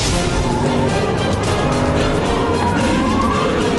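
An Audi R8 drives on a track cordoned with traffic cones, its engine and tyre roar a loud, steady wash that runs the whole way through while it ploughs into the cones.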